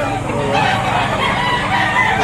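A rooster crows loudly and close by, a drawn-out continuous call filling the whole moment.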